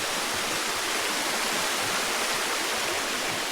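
A steady, full rush of water from a river and its small waterfall, close and constant, with no voices over the flow.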